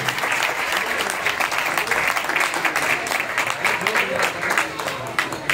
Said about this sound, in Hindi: उनके लिए पुरजोर तालियां होनी चाहिए